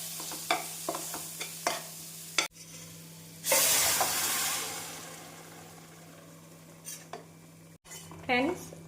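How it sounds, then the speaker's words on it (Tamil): Mutton pieces and masala sauté in a pan for a nalli bone mutton kuzhambu, with a loud sizzling burst midway, scraping stirs and clinks of a spoon against the pan throughout. "மசாலா சேர்த்து ஒரு முறை நன்றாக வதங்கவும் மட்டனை சேர்த்து விடலாம்"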